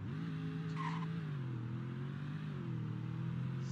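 Fire truck engine from Roblox Greenville drones steadily with stock exhaust, a continuous low hum that rises and dips slightly as the vehicle drives, with a brief higher tone near the start.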